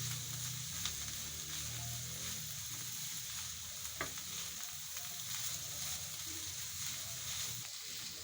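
Spices and sauces fry in a pan for a chicken bread roll filling, a continuous soft sizzle with occasional stirring scrapes and small clicks, steady and close, without talk.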